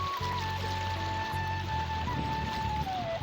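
Water of the Dihing River flows in a constant, fairly loud rush with no break, with a steady tonal hum running underneath and no speech.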